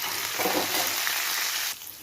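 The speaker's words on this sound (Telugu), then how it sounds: "ఇప్పుడు మనం పచ్చిమిరపకాయలు, కరివేపాకు, కొంచెం అల్లం ముక్కలు ఇవన్నీ వేసి మళ్ళీ అది ఫ్రై అయ్యాక" Steady, close sizzling of green chillies, curry leaves and ginger pieces frying in hot oil, crackling continuously and dropping slightly quieter near the end.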